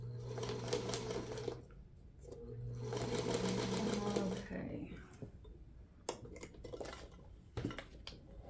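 A freshly painted sewing machine in need of oiling runs during foundation paper piecing, two close bursts of rapid mechanical whirring and clatter, followed by scattered clicks and handling sounds.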